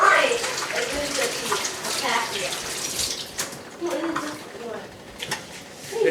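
Whole wheat berries are washed in water, with running water splashing and swishing unevenly in a basin while a voice talks in places.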